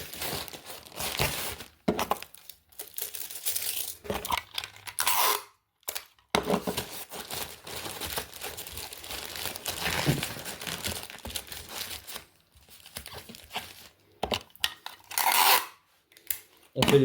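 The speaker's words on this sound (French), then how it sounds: "je vais fermer comme ça, on va bien plier le tout, mettre un petit bout de scotch" A package is folded closed by hand and sealed with a bit of adhesive tape, bursts of close crinkling, rubbing and rasping with short silent gaps between them.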